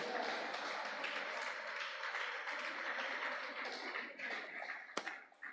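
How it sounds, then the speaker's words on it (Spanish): A church congregation applauds during a sermon, a steady wash of many hands clapping that sounds soft and somewhat distant, thinning out near the end. "Dele un aplauso al Señor."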